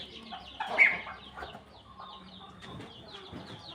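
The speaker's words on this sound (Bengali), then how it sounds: "এই যে আমার হাঁস মুরগি," Backyard chickens and ducks cluck and chatter close by, with one louder squawk early on, then softer scattered clucks continuing over a quiet farmyard background.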